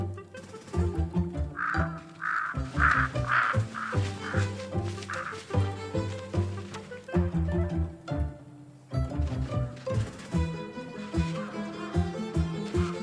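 Crows cawing in the Russian wilderness, a cluster of several harsh caws in quick succession early on, set against a steady backdrop of layered music.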